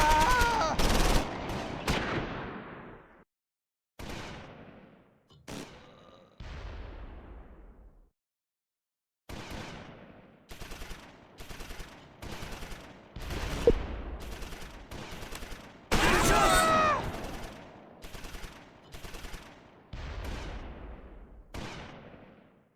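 Gunfire from a BAR squad ambushing German infantry in the open in the World War II strategy game Close Combat 4, Battle of the Bulge, heard as repeated sharp shots and automatic bursts separated by brief silences, with occasional heavier blasts.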